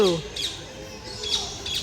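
A bird at a zoo lets out harsh, short squawks, two or three sharp calls spaced across under two seconds, close and fairly loud over a busy background, with a voice heard at the start.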